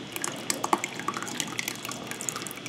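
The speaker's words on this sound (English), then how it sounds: "And yes, you are going to let it drip." Homemade Instant Pot Greek yogurt drips as it strains, a steady scatter of small, close, light liquid drops falling at irregular intervals, heard alone without talk.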